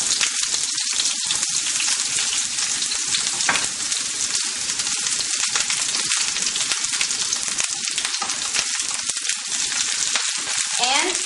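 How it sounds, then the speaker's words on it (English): Onions sautéing in two tablespoons of olive oil for a vegetable and cheese tart filling, giving a steady, close, crackling sizzle broken by frequent stirring scrapes and clicks, with no talking. "This is where we're going to saute our vegetables. So add your 2 tablespoons of olive oil."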